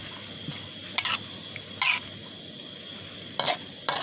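Short scraping and clattering bursts of stirring preserved radish in a wok over a steady low sizzle, four or five strokes spread across the clip.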